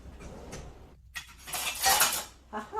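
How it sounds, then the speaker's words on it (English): A metal ladle scoops golden French lentil stew from a pot, a vegan one-pot meal. Close clinks and scraping against the pot come in bursts with a short pause, and no one speaks. "I'm going to use a ladle to get my"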